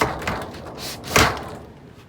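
A self-cleaning shower door in a Ford Transit camper van conversion closes with a firm thud near the middle, following a softer knock earlier, heard nearby with no talk.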